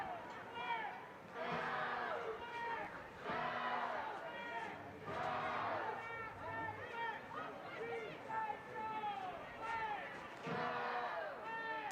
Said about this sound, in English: They have a good crowd there.